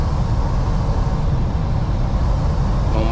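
Wind roars through an open semi truck window while driving on a snowy road, a loud, steady broadband rush layered over a low engine and road rumble, continuous and close, with no talking.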